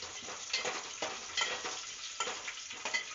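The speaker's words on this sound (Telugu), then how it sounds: "ఒక 5-6 వెల్లుల్లి రెమ్మలు వేసుకుని 1 స్పూన్ ఆవాలు 1 స్పూన్ జీలకర్ర వేసుకుని ఇలా ఫ్రై చేసుకోవాలి" Five or six garlic cloves, a spoon of mustard seeds and a spoon of cumin fry in a little oil for vankaya pappu, a continuous close sizzle with rhythmic stirring scrapes and no speech.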